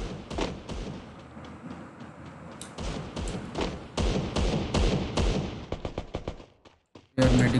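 Gunshots and automatic bursts in the video game Garena Free Fire, loud and close, with sharp single cracks and thuds mixed into rapid volleys, ending in a short silence then a final burst.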